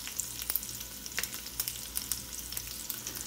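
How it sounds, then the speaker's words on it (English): Beef heart sous vide pieces sizzle in a hot pan alongside bacon, a soft steady frying hiss broken by frequent small crackles and pops, heard fairly quietly with no talking. "Got a bacon going on there."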